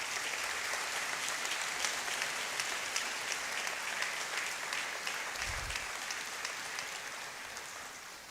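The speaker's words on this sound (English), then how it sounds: "Let's give him another round of applause." An audience applauds a professor after an inaugural lecture, with dense, even clapping that holds steady for several seconds before tapering slightly at the end, with a brief low thump partway through.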